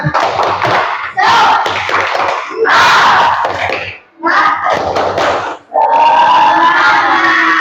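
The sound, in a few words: schoolchildren doing a rhythmic spirit clap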